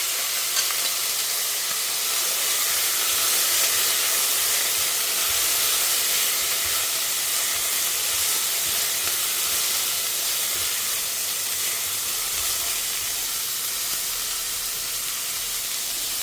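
Peas and carrots sautéing with spices in a single cooking pot, a steady close hiss and sizzle running unbroken throughout with faint stirring scrapes.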